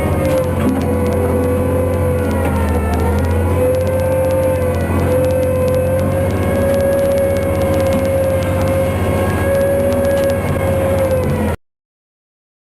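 A steady, loud whining tone with a low rumble beneath it rises slightly and holds through a 1987 missile launch, then cuts off abruptly.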